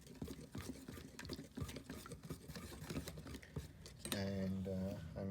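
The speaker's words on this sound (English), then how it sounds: "I'm going to stir this first. I'm using a whisk." A whisk stirs fresh green cilantro chutney in a bowl, giving quick clinking, tapping strokes against the dish that turn into a brief smoother whirring near the end, with faint voice in the background.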